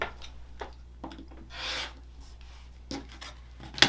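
Quilt fabric is trimmed on a cutting mat in a quiet room, with several short, soft cutting and rubbing strokes separated by pauses and faint handling sounds.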